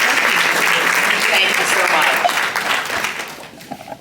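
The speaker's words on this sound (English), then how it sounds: "A big round of applause." Loud, dense applause fills a membership meeting hall, steady for about three seconds and then tapering off as a voice begins speaking.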